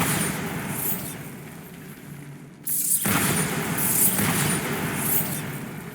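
Bombarda explosion spell cast in Hogwarts Legacy, a sustained rumbling roar that drops briefly, then a loud new blast surges in and keeps booming with crackling bursts, no voices.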